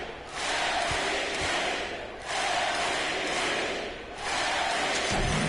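A home crowd in a basketball video game roars in three loud sustained surges of cheering and chanting, each swelling then briefly dipping, with occasional thuds underneath.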